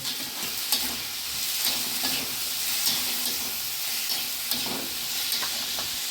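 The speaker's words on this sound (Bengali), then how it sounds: "আলুটা সুন্দর করে লাল লাল করে আগে ভেজে নেব।" Chopped potatoes with salt and turmeric fry in a pan, a continuous close sizzle broken by regular scraping stirs.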